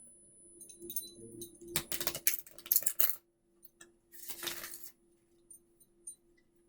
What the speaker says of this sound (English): first let me shuffle the cards a bit before we cut.